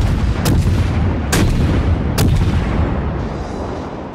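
Ship guns fire in the naval battle game World of Warships, three loud booming salvos spaced about a second apart over a constant heavy rumble of engine and sea noise.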